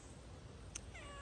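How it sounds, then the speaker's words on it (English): A cat meows briefly in a garden, a short clear call near the end over quiet outdoor background hiss. "Look at these cats. They already came into my garden."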